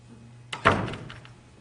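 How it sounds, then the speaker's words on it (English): Stage door closing during a live drama production, a single solid thunk with a brief rattle, fairly close and alone. "just let me get the door for you"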